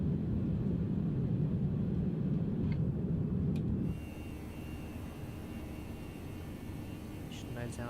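A ToLiss A319 airliner climbs out after takeoff in X-Plane 11, its steady, loud engine roar filling the cabin, then dropping to a lower, quieter drone about halfway through.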